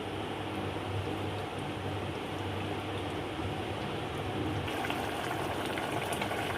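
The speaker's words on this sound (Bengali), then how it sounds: "পোস্তটাকে মিশিয়ে নিয়ে আর বেশিক্ষণ ফোটাবো না, একটু ফুটিয়ে নেব" Potato curry with poppy seeds simmers on a gas stove, giving a steady, dense bubbling hiss that holds evenly for several seconds with no talking.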